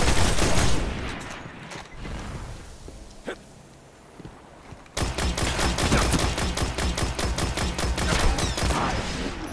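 Rapid weapon fire from the Destiny video game in a PvP Control match, an early burst followed by a pause with scattered shots, then a sustained rhythmic string of sharp reports toward the end.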